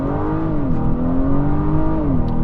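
A 2022 Acura RDX A-Spec accelerating hard in sport mode from inside the cabin, engine pitch climbing steadily, dropping briefly at a shift, then rising again, loud and steady with no talk.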